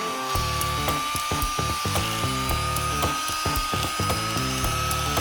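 An electric mixer on high beats egg whites for meringue for a 1974-style baked Alaska, giving a loud, continuous whirring drone with rhythmic rattling against the bowl throughout.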